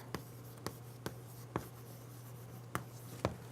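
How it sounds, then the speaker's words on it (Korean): A pen writes an example sentence by hand during an English grammar lesson, making six short, distinct taps and strokes at irregular intervals over a quiet, steady hum. "제가 요거 예문을 한번 써볼게요."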